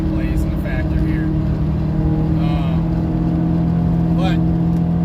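A lifted Honda CR-V with bigger tires, engine running at higher RPMs on the highway, makes a steady droning hum with constant road and wind rumble, while a person talks briefly over it.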